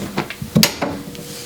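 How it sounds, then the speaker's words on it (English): Pressure knob being tightened on a ProWorld semi-auto heat press: a series of faint, short clicks and scrapes, close by, with one sharper knock in the middle. "I'm gonna tighten it down even more."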